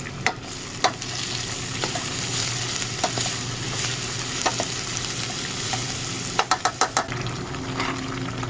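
A spoon stirs sizzling food in a pan as carrot is about to go in, with steady frying hiss under repeated scraping clicks near the end; no talking.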